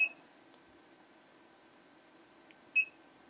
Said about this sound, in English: we're hearing the buzzer, so it's on, obviously